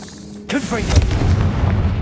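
Confringo explosive spell from Hogwarts Legacy bursts with a sudden booming blast at half a second, followed by a crackling, rumbling tail of debris and impact noise that stays loud to the end.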